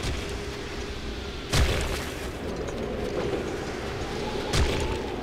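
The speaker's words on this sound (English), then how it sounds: "It's a bombardment." Bombardment in Breath of the Wild, heard as two deep booming explosions spaced a few seconds apart over a steady low background rumble, with no voices.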